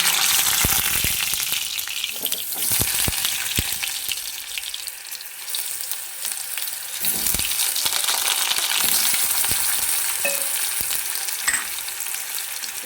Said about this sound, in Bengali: মাংসের জন্য তেল দিয়ে দিচ্ছি, আলুটা ভেজে নেব।